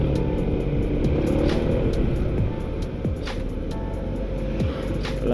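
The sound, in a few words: truck engine in traffic jam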